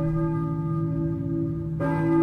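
A church bell tolls in the horror video game Silent Hill 1, a sustained ringing tone that carries on and is struck again near the end, loud and with no voices over it.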